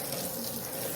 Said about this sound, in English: Let me rinse off my spoon.